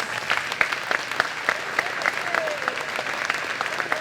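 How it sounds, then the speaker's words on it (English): Banquet audience applauding at a chamber of commerce annual dinner, with steady scattered clapping and individual sharp claps standing out throughout, moderately loud and close. "Please give them all a round of applause."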